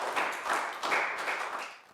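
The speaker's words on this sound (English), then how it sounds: "So a big round of applause." A short patter of applause from a small group, a brief run of light, uneven claps that fades by the end.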